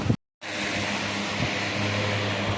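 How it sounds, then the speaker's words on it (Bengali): A table fan runs close by with a steady, even whirring hum that starts after a short silent gap and then holds unchanged. No one speaks. "সামনে টেবিল ফ্যান চলছে"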